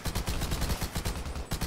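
Rapid bursts of AK-47 fire in a video game shooter, a loud sustained volley of close shots with a steady rattling rhythm and no talking.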